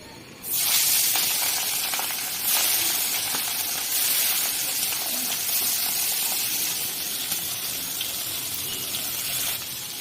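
Hilsa fish pieces seasoned with salt, turmeric and chili powder fry in hot oil in a kadai, giving a loud, steady hiss that begins abruptly and continues unbroken with faint crackles throughout.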